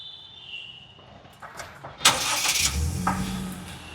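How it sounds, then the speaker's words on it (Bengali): A 2021 Toyota Hiace Super GL van engine cranks and starts after some quiet cabin noise, then settles into a steady, fairly loud idle rumble, heard close with no talking. "এট ফার্স্ট আমি গাড়িটা স্টার্ট দিই। আপনারা জাস্ট একটু নোটিস করবেন গাড়িটার ইঞ্জিনের সাউন্ড এখনো কতটা স্মুথ"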